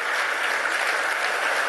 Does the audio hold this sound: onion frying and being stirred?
no